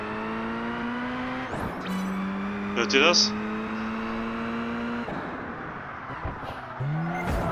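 A race car in Project Gotham Racing 4 drones at high revs with a loud turbo whine, pitch climbing through gears and dropping on shifts, under someone talking in German.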